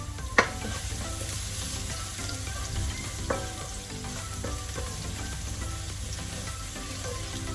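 Garlic frying and being stirred in a pan, a steady low sizzle with occasional scraping clinks of the utensil, close by and alone throughout.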